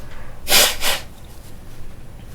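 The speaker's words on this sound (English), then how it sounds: "Okay, blow my nose." Two short, forceful nose blows in quick succession, close and loud, followed by quiet.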